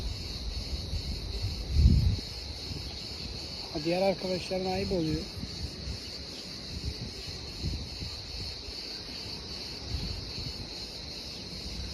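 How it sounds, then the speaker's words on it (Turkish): Crickets chirp outdoors in a steady high-pitched trill running continuously in the background, while a person speaks briefly over it and rustling handling sounds come and go. "Cırcır. Bak bayağıdır seni arıyorum."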